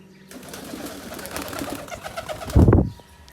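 A pigeon held in the hand gives a low, throaty coo close up, with soft rustling beforehand and a deeper burst near the end.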